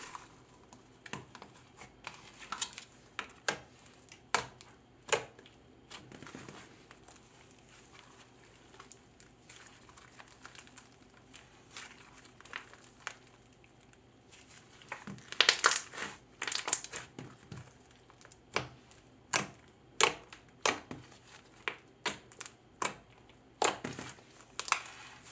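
Cake-batter-ice-cream-scented slime topped with foam beads is squished and pressed, giving soft crackly pops and crunchy bursts, faint at first, then louder clustered crackles toward the end, with no voices.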